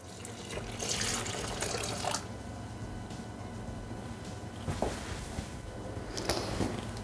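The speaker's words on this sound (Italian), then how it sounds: "Aggiungere il latte." Milk pours into a Thermomix bowl for white hot chocolate, a soft, close liquid splashing and trickling stream with a few louder gushes, with no one speaking.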